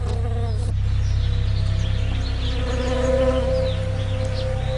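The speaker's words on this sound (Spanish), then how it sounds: "Cada primavera, millones de abejas son transportadas hasta aquí para que ayuden en la polinización de los almendros." Honey bees swarm through a California almond orchard at pollination time, a dense steady buzz of many wings close by that holds unbroken throughout.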